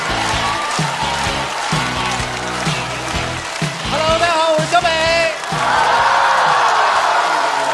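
A studio crowd at a stand-up comedy contest greets the comedian Xiaobei coming on stage with loud applause, cheers and whoops, mixed with stage music throughout.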